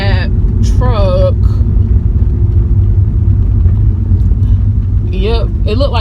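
A car's engine rumbles steadily, loud and continuous, while pulling into a driveway, with a voice talking over it in short bursts.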